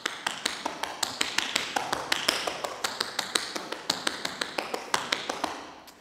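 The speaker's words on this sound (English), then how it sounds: "That whole pattern of double, double, single will sound like this." Tap shoes work through a fast, even pattern of doubles, singles and cramp rolls on a hard floor, sounding as a dense string of sharp, close taps for six seconds with no talking.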